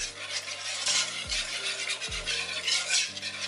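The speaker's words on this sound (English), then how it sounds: "And then you just stir it. Stir it, stir it, stir it." Cream is stirred in a pan for smoked fish pie, with soft hissing swishes and a few clinks of a utensil against the pan, close and alone.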